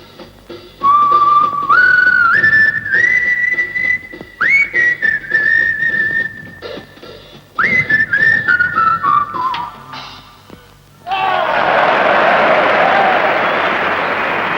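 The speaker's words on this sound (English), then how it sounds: "he whistled a little tune. It went like this" A man whistles a short, cheerful tune up close, sliding between held notes in a few phrases, followed by a burst of loud applause from an audience.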